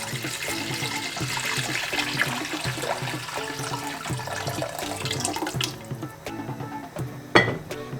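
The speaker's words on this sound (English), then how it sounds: "so we can add our water now." Water is poured into a cooking pot in a home kitchen, a steady close splashing and gurgling stream for several seconds that tapers off into a few clinks and drips.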